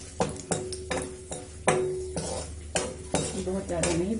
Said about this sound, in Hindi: बहुत ज़्यादा नहीं भूनना है काजू को, वरना फिर उसमें कड़वाहट आ जाएगी